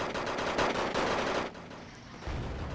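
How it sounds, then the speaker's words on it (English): Sustained machine-gun fire and overlapping gunshots in the Wargame: Airland Battle video game roar continuously, dipping briefly before another loud burst resumes, with no talking. "Shooting at these Marines from earlier."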